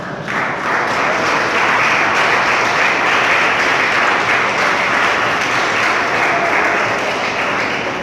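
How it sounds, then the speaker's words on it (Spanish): A church congregation applauds in a sustained, dense wash of clapping from many hands, steady and loud throughout with no break. "Denle un aplauso al Señor en esta mañana."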